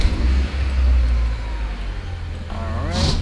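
A car engine turns over and settles into a steady low rumble, running close by with no talking.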